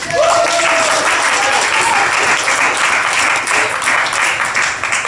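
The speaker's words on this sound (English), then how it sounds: "Give yourselves a round of applause." Loud, dense applause from the audience at a comedy open mic, continuous clapping filling the room for several seconds, with a faint voice or cheer mixed in.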